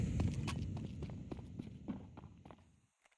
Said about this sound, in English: the footsteps are going to start getting heard from 9-10